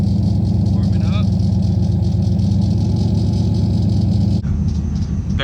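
A turbocharged Coyote V8 in a Foxbody Mustang idles steadily at its first startup, a loud, dense, throbbing rumble that stays constant throughout, with a brief shift in tone near the end.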